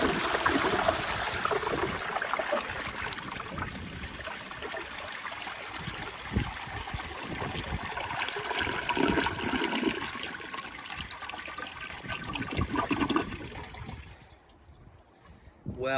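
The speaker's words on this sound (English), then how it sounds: "that has a really powerful flush. It sprays everywhere." A 1981 Eljer Emblem toilet on a flushometer valve, seat down, gives a powerful flush: a loud, close, continuous rush of spraying water lasting several seconds before it cuts off abruptly into quiet.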